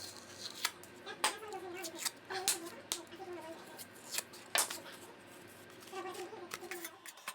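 Sheetrock being peeled away from its front facing paper during a drywall patch, a series of short close tearing and scraping bursts in an irregular rhythm, with quieter handling noise between them.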